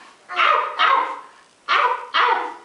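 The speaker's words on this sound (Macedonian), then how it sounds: "Дори кучето од фармата и вели на Дейзи" A farm dog in a cartoon story about a chick gives four sharp barks in two close pairs, loud and near with short gaps between them and no other voices.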